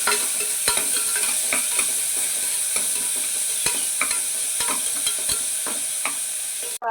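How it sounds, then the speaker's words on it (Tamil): Onions frying in hot oil for a Tamil mutton intestine curry give a dense, continuous sizzle with regular clicks and scrapes of a stirring spoon, close up and with no one talking. "எண்ணெய் சூடாகிடுச்சு, வெங்காயம் போட்டுப்போம்."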